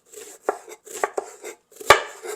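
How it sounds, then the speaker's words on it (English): A knife chops meat into thin slices on a board for Bun Bo Hue: a handful of sharp, close taps in an uneven rhythm, one noticeably harder than the rest, with quiet gaps between them. "I'm gonna chop it, cut it real thin to eat with the Bun Bo Hue."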